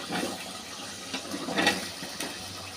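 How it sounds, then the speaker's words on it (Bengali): Green beans tipped into a pan of prawn masala give a steady broadband sizzle and hiss, with a few brief louder bursts as the beans land and settle. "এখন আমি শিমগুলো দিয়ে দেব।"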